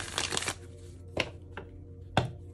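A deck of playing cards being shuffled, with a quick riffle burst at the start followed by a few sharp, separate snaps and taps, close and moderately loud with no talking.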